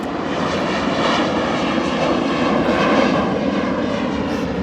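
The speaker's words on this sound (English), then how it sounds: "Wherever that plane is, it's in the fog, and I can't get it." A propeller airplane flies overhead but stays hidden in thick fog, its steady droning engine loud and continuous from start to finish with no other sounds.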